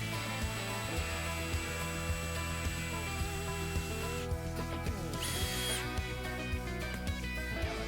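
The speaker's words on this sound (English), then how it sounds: "Begin by drilling a hole on the top of the block using a 1/8 inch drill bit." A power drill with a 1/8 inch bit boring a hole into the top of a wooden block while building a carpenter bee trap, running steadily with a whining motor and faint ticking, up close and alone for several seconds.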